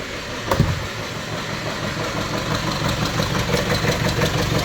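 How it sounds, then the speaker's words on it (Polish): A Mercedes-Benz car engine idles steadily up close with a faint ticking rhythm and some odd scraping or rubbing noises, after a brief clunk as it starts. "Odpalę Wam go, to posłuchacie jak on pracuje pięknie."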